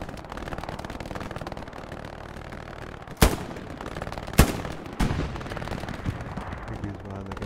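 Machine gun fire in the World War II video game Hell Let Loose: a dense, rattling stream of shots with a few loud sharp bangs standing out, close and heavy, with a voice talking briefly over it.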